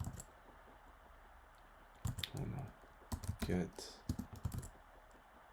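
Computer keyboard typing while configuring a Linux firewall: light, fairly faint clicks in short bursts, with someone talking softly over them.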